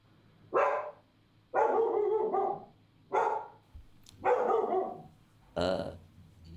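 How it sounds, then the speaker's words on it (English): A dog barks five times in a slow, uneven series of loud, near barks with short quiet gaps between them. "Let me just shut the dog up"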